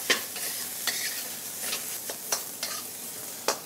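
Grated papaya with coconut, turmeric and cumin cooks in a pan for a papaya and carrot thoran, with a steady soft sizzle broken by regular scraping stirs of a spoon, close and moderately loud, no talking.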